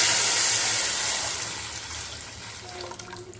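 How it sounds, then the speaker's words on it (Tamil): Tamarind water pours steadily into a pan, a broad watery rush that gradually tapers off, with faint clatter near the end. "இப்போ நம்ம கரைச்சி வச்சுருக்கிற புளித்தண்ணியும் சின்ன வெங்காயம் சேர்த்துக்கலாம்"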